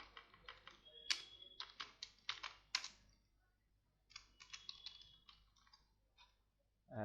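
Keystrokes on a computer keyboard while code is typed, bursts of crisp close clicks in uneven runs separated by short pauses, fairly quiet with no talk.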